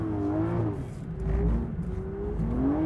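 Sports car, one of a Mercedes-Benz C63 AMG Black Series, Porsche GT3 or Aston Martin V12 Vantage, accelerating hard in second gear: a loud, continuous engine roar with rising harmonic tones, close and steady throughout.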